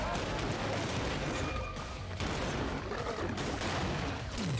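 Shotgun blasts and gunfire in the action video game ScourgeBringer, set in the sewers, a dense continuous barrage of loud bursts and impacts over game noise with a voice speaking.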